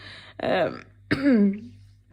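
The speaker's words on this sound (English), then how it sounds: "I'm coughing all the time" Two harsh, close throat clears with a coughing edge, separated by a short pause.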